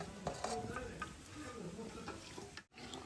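Potatoes are stirred in a pot, giving a continuous scraping and sizzling mix sound with faint clinks, heard up close with some talk in the background.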